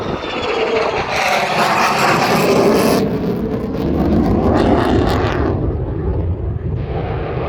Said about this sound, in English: appreciate the sound of the jet